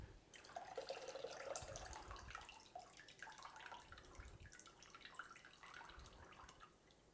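Whey drains off homemade mozzarella cheese with a faint, steady trickle and soft dripping, heard close but quiet with no voices.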